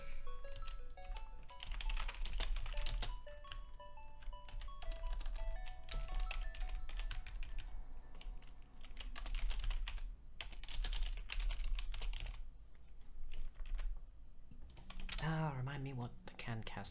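Rapid typing on a worn computer keyboard, steady clattering keystrokes running throughout under a person talking, with some background music and sounds from a game.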